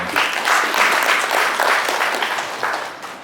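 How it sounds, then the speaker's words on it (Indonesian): A crowd claps at a PCNU Bekasi regency NU gathering, a short burst of brisk, fairly loud applause filling the hall and tapering slightly at the close. "Tepuk tangan kita semua."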